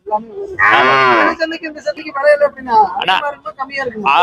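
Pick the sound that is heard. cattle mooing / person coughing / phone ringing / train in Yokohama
cattle mooing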